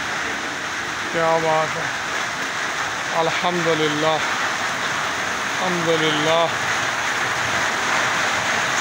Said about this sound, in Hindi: बारिश की स्पीड बढ़ चुकी है, बहुत ही ज़बरदस्त।